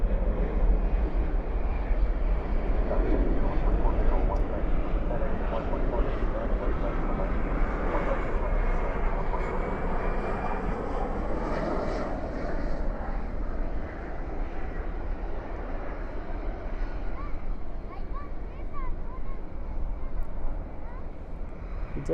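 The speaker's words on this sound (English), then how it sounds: "We did have an arrival come in, a little CRJ 700." A CRJ 700 regional jet arrives at night at DFW airport, its steady jet roar loud and sustained throughout, with a voice speaking over it.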